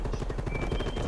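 Rapid bursts of automatic gunfire in a tactical shooter video game with bomb objectives, loud and fairly close, a continuous rattling stream of shots with no speech.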